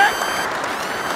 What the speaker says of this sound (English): Clap for me, man.